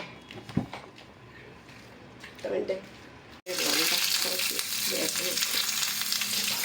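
Small kozhuva fish hit hot oil partway through with a sudden loud, steady sizzle that carries on to the end, following a quieter stretch of kitchen clatter and faint voices.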